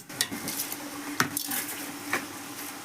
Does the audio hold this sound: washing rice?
yes